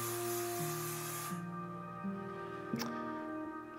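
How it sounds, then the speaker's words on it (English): Aerosol spray can hissing in a spray booth during mold making, a loud continuous spray burst that cuts off partway, leaving a steady booth fan hum with a brief clack near the end. "Ah, spray booth."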